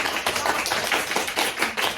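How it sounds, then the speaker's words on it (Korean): A studio audience of students clapping their hands for a Korean-language teacher, a brief, dense burst of applause with quick, overlapping claps at close range. "박수 한번 부탁드립니다."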